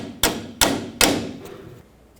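Three sharp metallic taps ring out in close succession on a 1997–2003 Ford F-150 tie rod as a cotter pin is bent over, each strike decaying briefly before the next, then tapering off to faint clinks.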